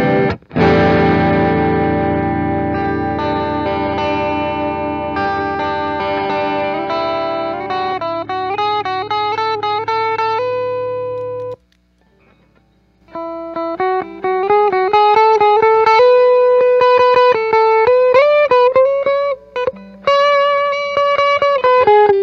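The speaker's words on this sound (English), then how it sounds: "So we're getting some nice, rich distortion" Electric guitar played through a red Stax Odrive-1 overdrive pedal at moderate gain, giving rich, warm distortion: a sustained strummed chord rings out, then a run of picked notes and phrases, with one brief pause midway.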